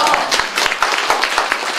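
A seminar audience at a public-speaking training camp claps warmly for themselves, a steady burst of many hands spread evenly through the moment with no pause.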